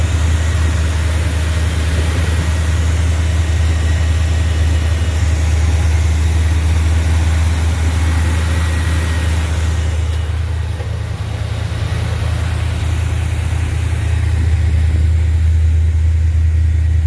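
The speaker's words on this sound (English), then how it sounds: "Here it is idling." A C3 Corvette engine idles steadily and loudly up close, a deep continuous rumble that holds even throughout, with no talking over it.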